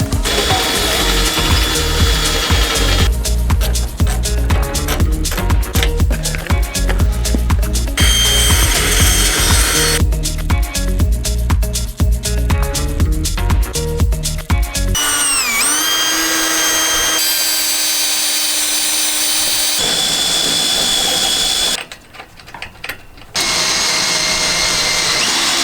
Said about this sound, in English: one of us will do the pre-drill with the small bit, because it's a 3/8 inch hole